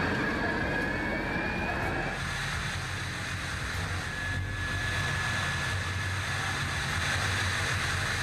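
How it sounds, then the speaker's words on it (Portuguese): A siren on the roof of a car passes by. Its tone holds steady, then drops in pitch as the car draws near and moves away, over a constant roaring background. "Quando a sirene em cima do carro se aproxima do microfone, o tom fica mais alto."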